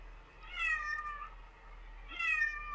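A cat gives two clear, loud meows about a second and a half apart, each a drawn-out, rising-then-falling call close to the listener in an otherwise quiet room.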